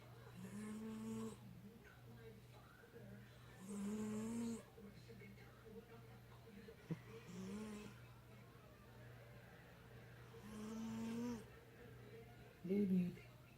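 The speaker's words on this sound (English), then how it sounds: "He's snoring." A cat snoring while asleep: slow, regular snores that rise and fall over a steady low hum, with a few scattered clicks and a brief squeak near the end.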